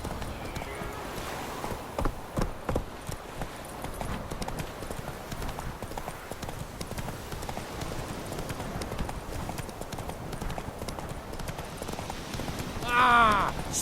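Hooves of the horse Roach clip-clop steadily at a gallop in The Witcher 3, a continuous rhythmic patter over ambient game sound, with a brief whinny near the end.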